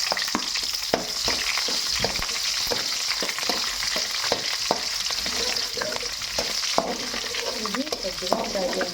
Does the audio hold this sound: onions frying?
yes